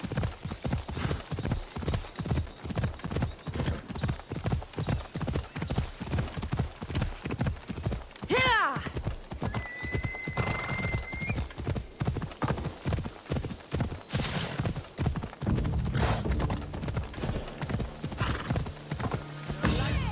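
A horse's hooves clop in a fast, steady gallop in the video game Assassin's Creed Odyssey, rhythmic and close, with a brief whinny partway through and a voice talking over it at moments.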